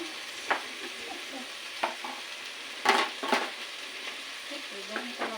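Vegetables for Filipino pakbet stirred and frying in a pan: a steady soft sizzle with scattered scraping, clattering strokes of a utensil, a louder cluster near the middle, close and alone without talk.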